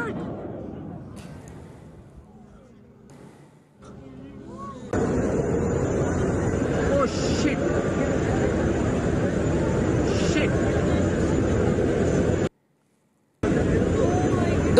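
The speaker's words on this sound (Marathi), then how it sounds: "दुबईमधल्या एअर शोच्या दरम्यान तेजस विमान क्रॅश झालेलं आहे" A Tejas fighter jet at the Dubai air show roars loudly and steadily after a quieter opening, a sustained broadband engine rush that cuts out briefly near the end before returning.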